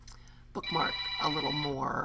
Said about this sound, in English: Oh, sorry about that. That was my phone. How loud and obnoxious.